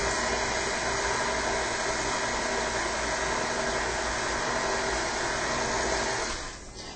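An electric mixer beats banana bundt cake batter of eggs, vanilla, flour and shortening, giving a steady close whirring drone that holds evenly, then drops away in the last moment.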